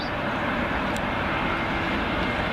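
A British Airways A320 arrives at Heathrow on runway 27L, passing close overhead with a loud, steady, broadband jet roar that fills the whole moment.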